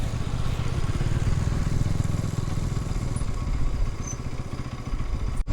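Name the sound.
motorcycle engine on a snowy road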